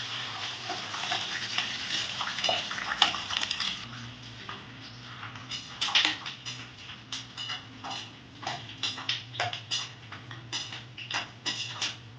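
Paneer frying in hot oil in a kadai, giving a steady crackling sizzle with scattered sharp pops and ticks throughout, close and moderately loud, with no voices.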